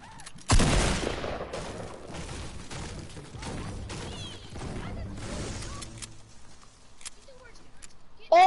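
Infantry rifle gunfire in a video game cracks out in a string of sharp shots, loud at first and then quieter and spaced out, amid excited talking from players.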